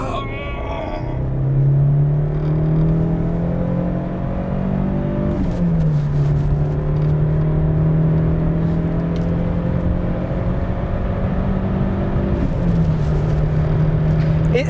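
A Citroën Xantia with a 2-litre, 135 engine accelerates on the road. The engine note climbs steadily and drops back at two gear changes, a loud, close in-car drone with a faint hint of voices.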